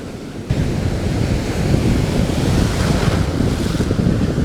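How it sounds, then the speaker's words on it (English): A swift, cool wind blows steadily across an open beach on South Padre Island, with surf washing behind it in a constant loud roar and gusts buffeting the microphone. "a cool breeze, quite a swift cool breeze"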